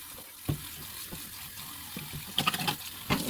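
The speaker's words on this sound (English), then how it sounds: "So I have my hot water running." Hot water runs from a kitchen tap into a sink, splashing in a few irregular bursts over a steady faint flow.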